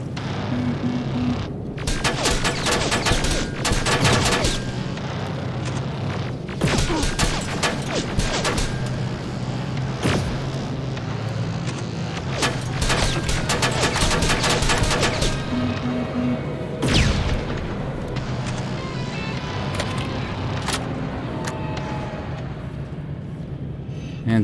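Automatic turret gunfire in the video game Terminator: Resistance rattles in dense, continuous bursts with sharp impacts and crashes, loud and sustained across the whole stretch.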